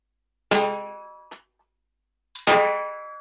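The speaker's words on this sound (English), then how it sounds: "you can get this sort of rim shot, and this is a very bright sound" Bright rim shots struck on a Latin percussion drum, two sharp ringing hits with a small tap between them, fairly close and decaying quickly in a quiet room.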